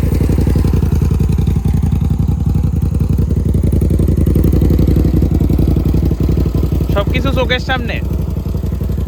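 A 650 cc motorcycle engine idles up close, a loud steady low throbbing pulse running the whole time, while someone talks over it and a brief clatter sounds near the end.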